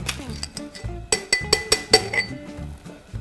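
Ice cubes drop into a lowball glass one after another, a quick series of bright clinks, close by with a little background murmur.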